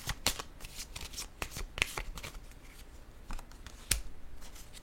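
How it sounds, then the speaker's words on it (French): Tarot-style cards handled during a reading, a series of sharp, quiet snaps and slides as cards are drawn, shuffled and set down, irregular and close, with no talk. "je vais déposer une autre carte"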